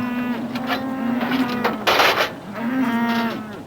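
Cattle mooing nearby, two long low calls with a brief rustling burst between them.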